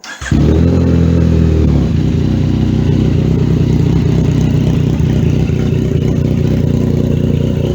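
A Yamaha FZ-09 with an MGP Shorty exhaust and K&N filter idles loud and close with a deep, throaty exhaust, starting up abruptly and holding a steady rumbling rev throughout.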